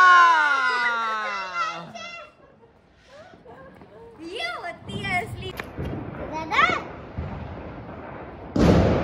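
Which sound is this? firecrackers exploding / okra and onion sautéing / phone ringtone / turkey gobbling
firecrackers exploding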